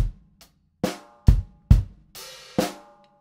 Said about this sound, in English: you get that nice sizzling open hi-hat sound for that eighth note